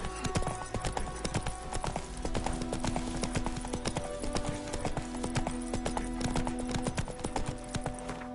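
Horse hooves clip-clop at a gallop in the video game Witcher 3, a quick regular drumming of hoofbeats with faint tack jingle, steady and moderately loud, with no talking.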